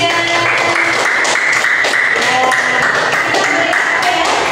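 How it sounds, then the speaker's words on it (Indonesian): A classroom of students applauding a student group after a presentation, brisk, crowded clapping throughout, loud and close, with some chatter mixed in. "Beri tepuk tangan untuk kelompok 3."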